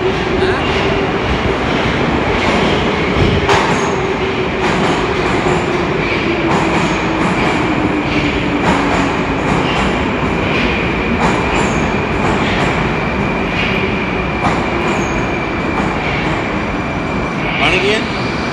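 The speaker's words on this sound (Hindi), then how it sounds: "एक मेट्रो से उतरे हैं और दूसरी मेट्रो में जा रहे हैं" An underground metro train roars loudly and continuously in a tunnel some 20 to 30 metres below ground, with rumbling wheels, a faint squeal and clattering, and people talking under the noise.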